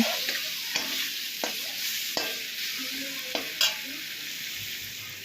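Tomatoes sautéing in spice masala for a katla fish curry with potatoes, a steady oily sizzle close by, broken by several scraping knocks of a spatula stirring the pan.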